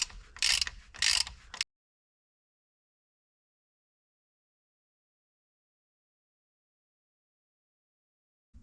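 A ratchet tightens bolts in two quick bursts of close, rapid clicking, each lasting about half a second, followed by a long silence.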